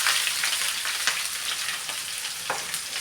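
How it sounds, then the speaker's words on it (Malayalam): Onion and green chili frying with garlic in hot oil for an egg roast, a close, steady sizzle with a few sharper crackles and stirring scrapes. "വെളുത്തുള്ളി ഒന്ന് ഫ്രൈ ആകുമ്പോൾ നമ്മൾ അരിഞ്ഞു വെച്ചിരിക്കുന്ന സവാളയും പച്ചമുളകും കൂടെ"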